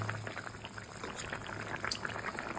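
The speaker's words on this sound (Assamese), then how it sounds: "কপ কপকৈ উতলি আছে" Steady bubbling and simmering of a pot of fish curry on the boil, a dense continuous burble of small pops with a faint low hum underneath.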